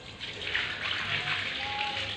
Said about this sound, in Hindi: अब मैं पानी आपको डाल के दिखा रहा हूँ